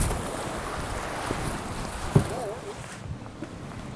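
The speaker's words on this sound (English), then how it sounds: "I think if we get around this point, then we can ride with the waves." Gusting wind and choppy lake water slap against a canoe during a summer storm, a steady rushing wash with one sharp knock partway through.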